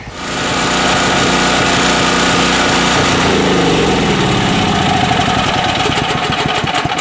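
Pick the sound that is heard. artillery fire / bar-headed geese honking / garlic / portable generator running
portable generator running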